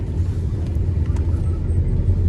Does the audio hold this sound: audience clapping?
no